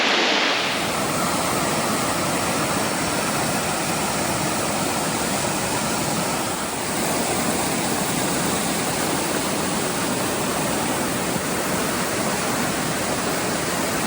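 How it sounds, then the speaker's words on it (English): A waterfall pouring over rock into Ten Mile Lake in Algoma, a dense, steady broadband roar that holds unbroken and loud from start to finish with no voices. "Well, there's the waterfalls."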